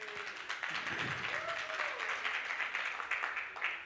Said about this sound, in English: please give him a round of applause and give him a shout out team.